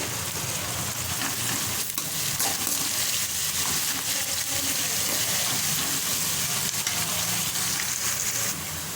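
Onions sizzle steadily in a pan with salt added, a dense continuous frying hiss with occasional stirring scrapes, close and fairly loud throughout with no talk, part of making ivy gourd (dondakaya) fried rice.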